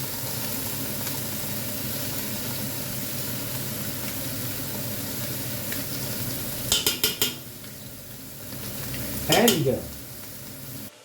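Onions, garlic and peppers sizzle steadily in a pan as tomato puree goes in for a Mediterranean tuna dish, with a few sharp utensil clinks and a scraping stir near the end; one word is spoken.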